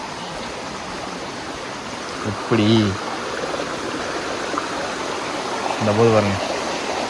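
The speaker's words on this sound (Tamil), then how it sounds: "ஒரு ஓடையை பார்க்க ஓடிட்டுருக்குறோம்." Mountain stream flowing steadily on the Agasthiyar hill trek, a continuous broadband rush of water heard up close beneath two short bursts of people talking.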